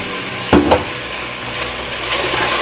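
A soy sauce syrup for chicken wings bubbles and hisses softly in a pan as a spoon stirs it, with a couple of brief scraping knocks near the start.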